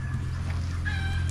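A chicken clucks in a short, nasal burst near the end, heard over a steady low hum of farmyard background.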